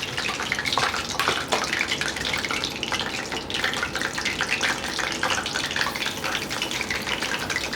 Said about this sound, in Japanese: 続きましてお魚揚げてまいります